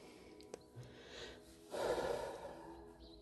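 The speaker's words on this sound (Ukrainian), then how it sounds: "Зараз зроби знову повільний глибокий вдих і повільний видих." A slow, deep breath drawn in and let out during a quiet meditation, soft and close with a fuller exhale rising toward the end.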